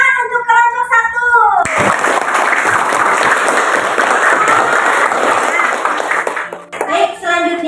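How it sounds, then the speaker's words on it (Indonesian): Classroom of children clapping for a student group, a dense burst of applause lasting several seconds, framed by a voice before and after. "tepuk tangan untuk kelompok 1"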